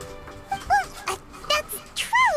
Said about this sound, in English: My dog is chasing her tail.